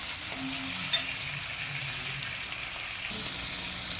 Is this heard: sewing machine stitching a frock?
no